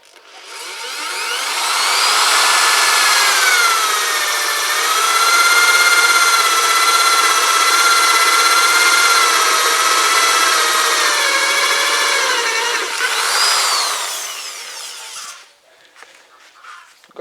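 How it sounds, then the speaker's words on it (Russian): A power drill bores a hole through the steel wall of a gas cylinder, giving a sustained, loud, wavering whine for about twelve seconds before spinning down, with a brief rise in pitch near the end. "Первое, сверлю отверстие и привариваю гайку."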